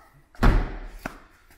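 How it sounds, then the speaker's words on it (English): A motorhome's rear door lock slides and closes: a solid thud, followed a moment later by a lighter knock, with no talking. "So just slide the door lock up,"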